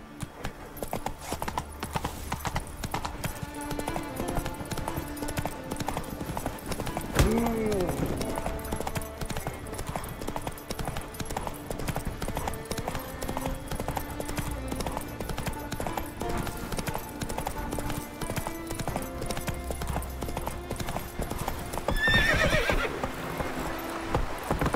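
Hooves of a horse clip-clop steadily at a run through a game world in The Witcher 3, with a couple of neighs and whinnies breaking through amid music and ambient sound.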